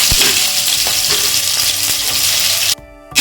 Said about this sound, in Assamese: আৰু এতিয়া পিঁয়াজখিনি অলপমান ভাজিম